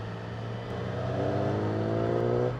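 A 2016 Yamaha R6 sport bike engine pulls under throttle from low revs, a steady drone that rises slowly in pitch and loudness, heard close from the rider's position.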